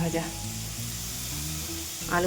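Soft, steady sizzle of potatoes frying in a pan, with a short voice at the start and end over the crackle.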